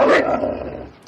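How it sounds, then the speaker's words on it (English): A wolf gives a single close, rough growl that starts loud and slowly fades over about a second, with no talking over it. "He's a wolf."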